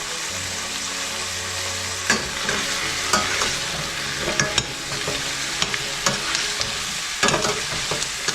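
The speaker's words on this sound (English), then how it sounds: "Now we just caramelize the onion and the garlic just a little." Onion and garlic caramelize in a hot pan with a loud, steady sizzle, punctuated by sharp clicks and scrapes of a utensil stirring them, close by and without speech.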